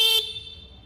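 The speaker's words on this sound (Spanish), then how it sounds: "el claxon" A short, bright honk from a KTM Duke 790 motorcycle horn, up close, cutting off quickly.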